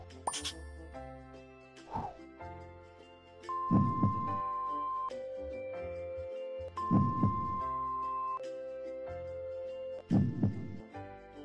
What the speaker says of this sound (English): Heartbeat's normal.